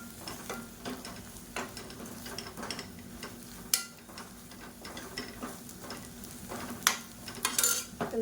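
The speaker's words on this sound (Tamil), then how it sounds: "அதை லேசாக எண்ணெயில் வதக்கி விட்டுக்கோங்க" Onions and kulambu masala powder sautéing in hot oil in a pan, with a steady soft sizzle and frequent stirring scrapes and clinks of a utensil against the pan, close up with no talking.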